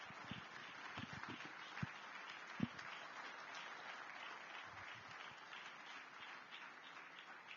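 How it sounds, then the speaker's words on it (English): Sustained audience applause welcoming a general to the stage at a Nigerian governance and national security forum, steady and fairly distant, a crowd of many hands clapping evenly throughout with a few louder claps standing out. "Please join me in welcoming, with a round of applause, General Christopher Gwabin Musa, OFR."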